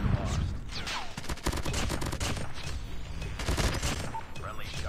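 Rapid bursts of video game gunfire and explosions crackle loudly and continuously, with a player talking over the shooting.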